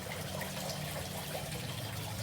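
Water steadily trickles and splashes as an outdoor fountain in a town square fills back up, a continuous soft liquid wash with no voices over it.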